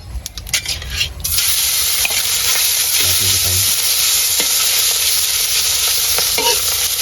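Beef sizzling in a hot pan as its fat renders for pinapaitan, a loud, steady frying hiss with occasional stirring scrapes and clinks near the start and midway.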